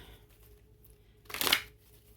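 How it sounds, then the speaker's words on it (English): Tarot cards are shuffled once in a brief, crisp riffling burst near the end, close and clear against a quiet room, with no speech. "Let's do another shuffle here."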